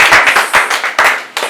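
A group of people clapping in quick, uneven bursts, close and loud, with individual hand claps standing out briefly.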